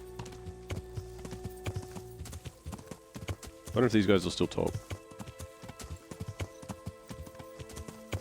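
Horse hooves clip-clop steadily in the Kingdom Come: Deliverance video game, with a loud whinny from the horse midway and someone talking over the rhythmic hoofbeats.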